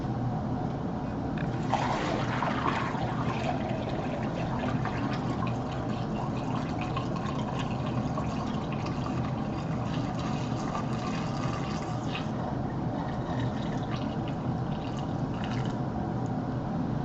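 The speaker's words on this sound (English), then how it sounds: "I'm going to go ahead and pour my worts" Homebrew beer wort for a Bavarian weissbier pours steadily into a Mr. Beer plastic fermenter, a continuous close-up splashing and gurgling rush of liquid that holds for the whole stretch.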